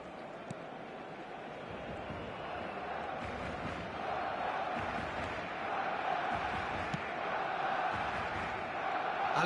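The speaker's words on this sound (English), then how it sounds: "Maybe the crowd will stay a little quieter next time." Steady roar of a stadium crowd in the eFootball 2027 video game, a continuous broad wash of massed voices that swells slightly louder toward the end, with no clear speech over it.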